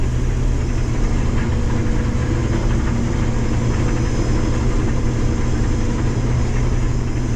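A combine harvester cutting heavy soybeans gives a continuous low, rumbling engine drone, heard steadily from the cab with no talking.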